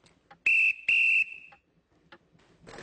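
A toy train engine whistle as the engine departs, two loud, bright shrill toots close together, then quiet handling sounds, with no talk.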